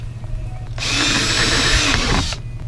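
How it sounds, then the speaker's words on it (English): A power drill whirs loudly for about a second and a half, boring pilot holes into a Hobie kayak hull for a thru-hull wiring kit, with quiet handling noise before and after. "so I'm going to drill pilot holes first."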